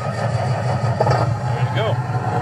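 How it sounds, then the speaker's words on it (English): A simulated big rig truck engine start from a student-built driving simulator, a steady low rumble running throughout with a brief rising tonal chirp near the end, all fairly loud and close. "Starting off, we're going to do the engine start."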